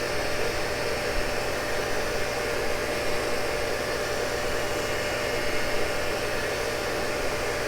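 A shop-built wheel head spindle on a Cincinnati tool and cutter grinder, set up for precision grinding Morse tapers, runs with a steady, dense whirring hum and broadband hiss, constant and close throughout with no talk.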